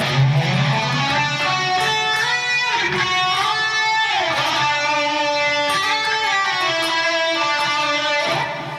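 Sustained electric guitar notes descending through a scale, then flowing into a melodic lick with bends and held tones, loud and continuous.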